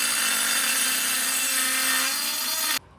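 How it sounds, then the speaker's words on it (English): A Dremel rotary tool trims a part for a VW 1776cc engine, grinding with a loud, steady high-pitched whine for nearly three seconds before it stops abruptly. "We're just going to use a Dremel to kind of trim however much we need to trim there"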